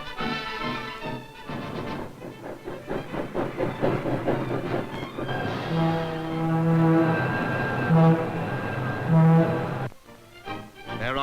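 A vintage passenger train leaving Chicago runs along the tracks, with a rhythmic clickety-clack of wheels and a loud, sustained horn blast that sounds in several tonal bursts before fading away.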